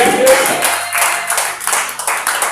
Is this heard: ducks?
no